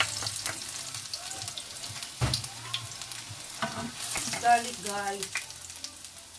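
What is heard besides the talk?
garlic frying in a pan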